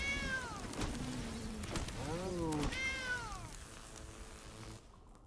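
Several cartoonish cats meowing in the MTG Arena card game, a string of rising and falling meows one after another, moderately loud and close, fading into quiet at the end.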